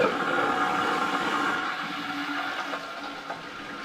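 Water rushes steadily into a toilet tank refilling through a newly replaced fill valve, a continuous close hiss and gurgle that softens a little over a few seconds.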